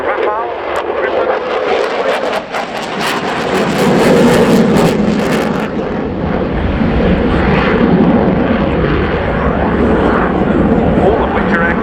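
Belgian Air Component F-16A fighter jet flying a display at the RIAT 2016 airshow, a loud continuous jet roar that swells and holds steady overhead, with crowd voices talking underneath.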